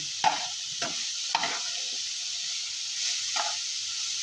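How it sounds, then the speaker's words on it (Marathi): Modak filling of jaggery and coconut with cardamom powder sautés in a pan, a soft steady sizzle broken by several distinct scraping stirs of a spoon, close and alone. "ते चांगलं असं मिक्स होईपर्यंत परतायचं आणि त्याच्यामध्ये आपण ही वेलची पूड टाकलेली आहे"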